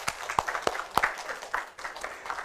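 A congregation in a Korean church claps during a Sunday service, a scattered, uneven round of hand claps with a few louder close claps standing out before it thins toward the end.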